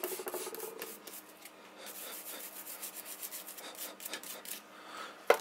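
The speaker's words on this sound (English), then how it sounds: "This Scotch-Brite, it actually works extremely well for cleaning quite a few things on ARs." A Scotch-Brite pad scrubs AR15 rifle parts clean, giving a steady close rasping rub that runs on through most of the stretch with no one talking.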